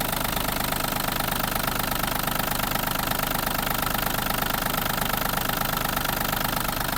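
A Yanmar RS-270 mini tractor's diesel engine runs steadily and loud, with a dense knocking chug held constant throughout without pauses.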